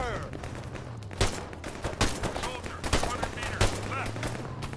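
Gunfire in the military video game ArmA 3: a steady stream of shots with several sharper loud reports over a low engine-like drone, the firing ongoing and mid-distance throughout.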